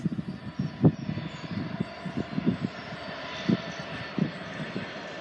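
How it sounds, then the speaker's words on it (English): A freight train hauled by two locomotive cabs, numbered 66594 and 66559, passes the Helpston level crossing with a low, heavy engine rumble and rhythmic throbbing pulses, fairly close and steady throughout. "Oh, it's a freight! Two cabs."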